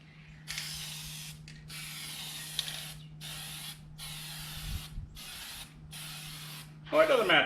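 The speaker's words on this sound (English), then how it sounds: "So what you want to do is you want to spray all your edges first." A spray paint can hisses in several bursts as a car fender's edges get coated, each spray close and steady with short gaps between, a rattle of the can near the end.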